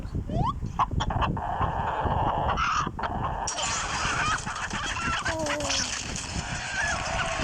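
A white chicken clucks in a Saitama chicken farm video game, its calls close and repeated over busy, continuous game sounds and music.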